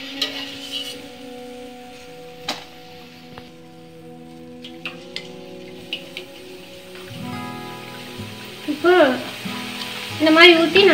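Boondi batter for laddu poured into hot oil, giving a crackling sizzle with sparse spoon taps and scraping, growing busier and louder toward the end.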